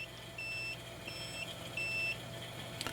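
A tube-amp builder's electrical meter gives steady, repeated beeps at an even pace, each a clear tone of about a third of a second, fairly faint against the background hum of a workbench.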